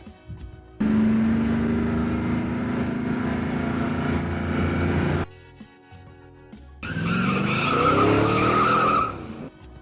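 A car speeds past with tires squealing in a long skid, then after a brief pause a second burst of skidding and engine roar follows, both loud and close with no voices.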